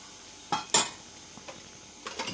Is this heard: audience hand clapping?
no